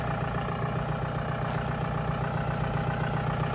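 Modified Mahindra Bolero jeep with a turbo diesel engine idling, a steady, loud, low rumble held evenly throughout with no voices.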